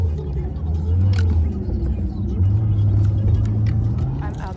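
A car drives along before parking, its low engine drone and road rumble steady and close from inside the cabin, rising slightly in level midway, while a person talks over it.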